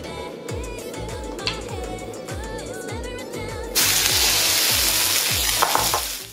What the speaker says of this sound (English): Add 1 tablespoon of cooking oil and the beef mixture.